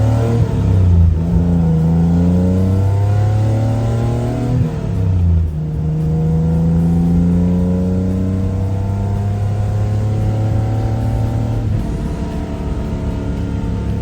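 A Nissan Skyline Hakosuka engine revs up and down repeatedly, loud and close, its pitch climbing in sweeping rises before settling back to a steady drone.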